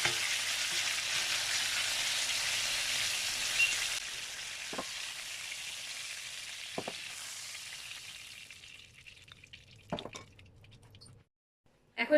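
Chicken pieces sizzle and fry steadily in a pan during a home chicken roast, a loud continuous hiss that fades toward the end, broken by a few utensil clinks and scrapes near the close.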